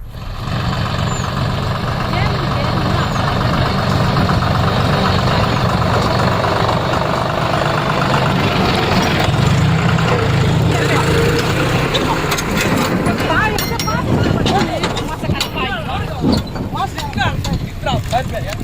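A tractor engine runs steadily and loudly throughout, a continuous low mechanical drone with a rougher burst of activity near the end, and a voice is heard over it.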